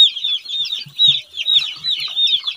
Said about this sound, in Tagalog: Ayan, malalaki ang mga sisiw natin.